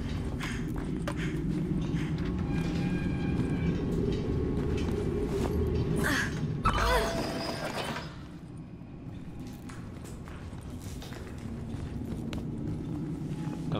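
Mine cart in the horror game GYLT rolling along rails, a steady low rumbling clatter with rhythmic wheel clacks running throughout, swelling briefly mid-way with a louder metallic screech before settling back to a continuous roll.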